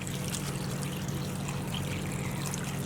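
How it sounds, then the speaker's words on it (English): Cold water pours steadily into a bowl of cut, salted potatoes, a continuous close splashing rush with no talk. "And we're going to top this all up with cold water."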